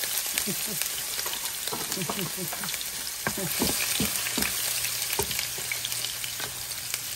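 Sautéing in rendered pork fat for ginataang gulay, a loud close sizzle with a run of sharp crackles and pops and occasional spatula scrapes against the pan.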